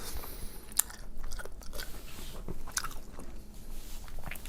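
Biting and chewing a piece of steak, close and quiet, with wet squishy chews and occasional sharper crunchy clicks repeating steadily throughout.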